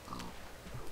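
A Minecraft pig gives a short, low oink, faint and close, with soft background game noise around it.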